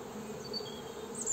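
Buckfast honeybees buzzing at the hive entrance as they bring in pollen, a continuous close, soft droning hum with faint higher whines of single bees passing.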